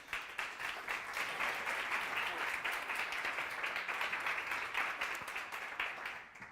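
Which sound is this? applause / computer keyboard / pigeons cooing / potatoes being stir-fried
applause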